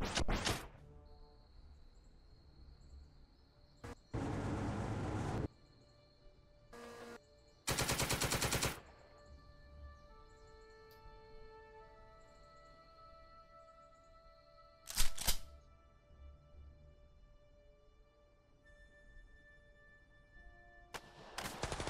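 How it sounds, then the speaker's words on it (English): Machine gun fire in the World War II strategy game Second Front: two sustained rattling bursts a few seconds apart, later a few sharp isolated shots, all loud against a quiet backdrop with faint tonal game sounds between. "I don't know if we put the machine gun fire in here."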